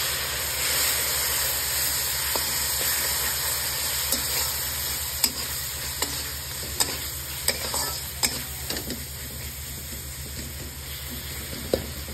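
Mutton masala fries with a little water in the pan. It gives a steady broadband hiss and sizzle, and stirring scrapes along with a few sharp ticks and clinks. The cooking is close and goes on unbroken, with no talk.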